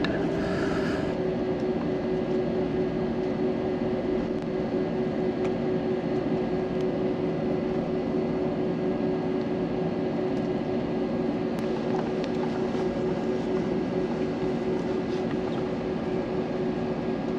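Steady low cabin rumble and engine hum inside an aircraft taxiing after landing on the Noto trip from Haneda, continuous and fairly loud, with no talking.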